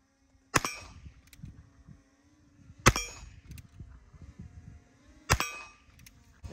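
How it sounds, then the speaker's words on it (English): Three 22 long rifle shots ring out a couple of seconds apart, each a sharp crack followed by a metallic clang from a quarter-inch mild steel plate, with faint rustling in between. "I missed a couple shots"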